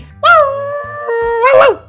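A drawn-out, howling bark-like cry rises and holds, then breaks into a second louder yelp near the end; it sounds like a dog vocalising close by.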